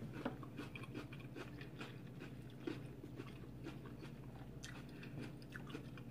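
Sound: crunching on veggie nachos with raw peppers

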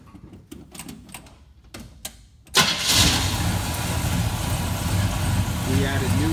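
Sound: 1972 Chevy Chevelle engine starting

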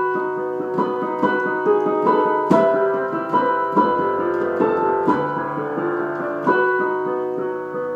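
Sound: piano playing a piano solo from Corpse Bride

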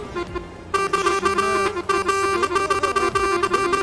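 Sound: truck horn honking in a video game

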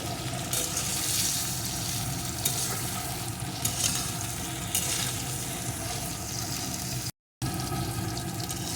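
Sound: frying pointed gourd (potol) with salt

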